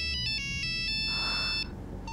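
A mobile phone ringtone for an incoming call plays as a bright electronic melody of repeated clear tonal notes, loud and close, then stops abruptly after about a second and a half.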